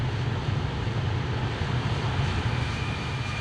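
Boeing 747-400 jet engines roaring in the X-Plane flight simulator from an outside view, a loud steady drone with a low hum and constant broadband rush, no voices.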